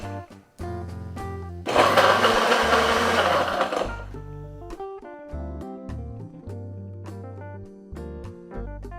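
A Ninja Foodi blender roars loudly for about two seconds on its frozen drink setting making frozen margaritas, then cuts off, with background music playing throughout.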